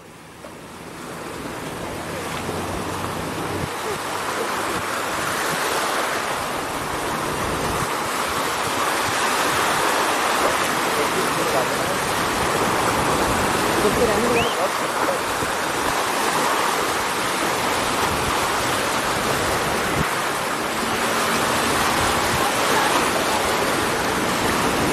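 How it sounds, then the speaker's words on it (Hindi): Rushing floodwater surging steadily at close range, a continuous broad roar with gusty swells and no pauses throughout. "अब उफान बढ़ गया है पानी का।"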